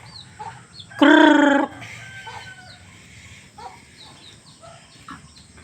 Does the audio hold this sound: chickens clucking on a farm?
yes